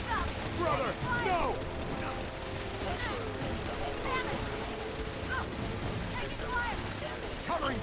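Gunfire in the game Fallout 4 during a battle of synths against the Brotherhood of Steel, a dense, continuous barrage of shots and chaotic combat noise with shouting voices throughout.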